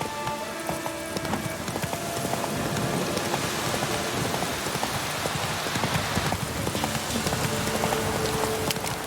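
Horse hooves clip-clopping at a trot in The Witcher 3: Wild Hunt, a steady rhythmic beat set under heavy rain with a faint rumble of thunder.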